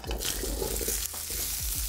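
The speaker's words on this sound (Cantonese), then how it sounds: "We'll continuously stir the potatoes so that each piece gets stir-fried evenly." Potatoes stir-fry in a little oil in a wok for Cantonese-style curry chicken, with a continuous close sizzle and scraping, clattering strokes of the spatula.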